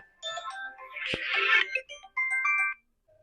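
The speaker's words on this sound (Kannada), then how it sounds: "ಓ ದೋಸ್ತರ ಫೋನ್ ಹಚ್ಚದನಲ್ಲ" An incoming call sets off a phone ringtone, a short bright melodic tune of tonal notes that plays clearly and alone before stopping.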